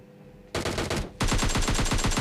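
Rapid automatic gunfire from a bot in a battle royale video game, a short burst followed after a brief pause by a longer sustained volley of loud, close, rattling shots.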